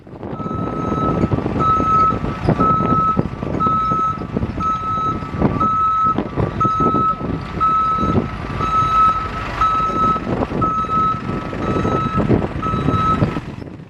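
A truck slowly following protesters emits loud, steady reversing beeps in an even rhythm, over a continuous engine rumble and street noise.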